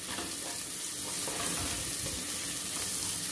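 Onions, tomatoes and turmeric frying in a pan for a Rayalaseema-style dry mutton gravy, stirred steadily with a constant close sizzle and soft scraping all the way through, no voices.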